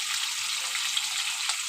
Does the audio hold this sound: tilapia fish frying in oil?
yes